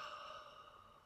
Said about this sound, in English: breathing out through the open mouth